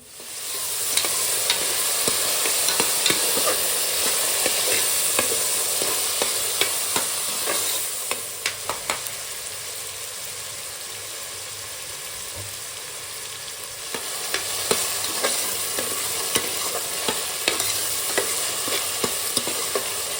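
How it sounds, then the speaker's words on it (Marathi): Mutton masala frying with an onion-tomato tempering in a pressure cooker pan, a steady, loud broadband sizzle throughout, with scattered scraping stir clicks and a slight dip in intensity partway before it surges again. "आता आपण फोडणे घालूया"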